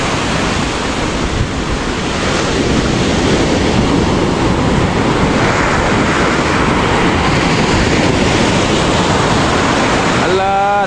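Strong sea waves surge close to a beach hut, a dense, continuous roar of surf and wind that stays loud and unbroken throughout, with a faint tonal chirp near the very end.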